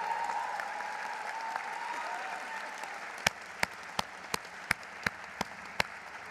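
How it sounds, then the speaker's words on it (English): Graduation audience at Bill Graham Auditorium applauding the instructors onstage: a broad wash of crowd clapping, fairly distant, followed by a series of loud, evenly spaced single claps close by. "let's give a round of applause to the instructors on this stage"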